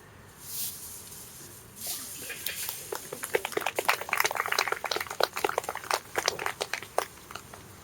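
Crackling and crinkling of a plastic bag being crumpled close by, starting with a couple of soft rustles and building into dense, irregular crackles that continue to the end.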